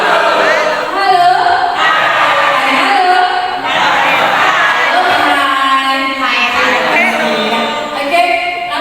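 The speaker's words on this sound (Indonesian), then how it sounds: "tepuk tangan untuk kelompok 3" A room of participants at a community learning reflection session cheers and whoops loudly for a group, with shouting voices and excited chatter filling the whole stretch.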